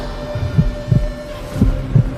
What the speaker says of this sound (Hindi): तो अपने भीतर मेरी धड़कन सुन।